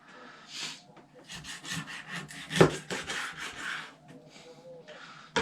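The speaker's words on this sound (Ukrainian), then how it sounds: "Беремо нашу скумбрію і нарізаємо порційними кусочками." A knife sawing through mackerel to cut it into portion pieces, making a run of short rasping strokes close up that peak in the middle, quiet overall, with no talking.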